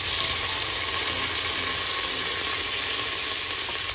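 Onion and tomato sauteing together in a pan give a steady, fairly loud broadband sizzle that holds evenly for the whole stretch, with no voices over it.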